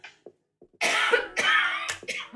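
A person coughs in a burst of loud, raspy coughs, several harsh repeated hacks following a few small throat sounds, close to the microphone.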